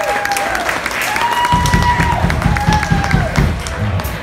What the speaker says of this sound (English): So y'all give a round of applause for them.